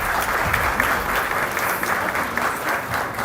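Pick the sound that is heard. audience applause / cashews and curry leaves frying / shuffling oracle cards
audience applause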